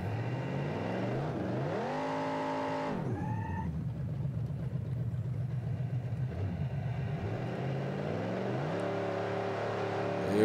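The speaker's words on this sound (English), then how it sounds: "Nitrous on. Whoa. Nope. Engine's blowing, and we did 196 at 716 in the left lane." Drag car engine in the BeamNG racing game revs hard and accelerates, pitch sweeping up then dropping as it shifts, a loud continuous roar that keeps building toward the end.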